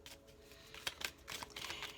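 Gold, silver and winged angel cards shuffled by hand, giving a soft, quick run of riffling and flicking taps, faint and close, with no talk over it.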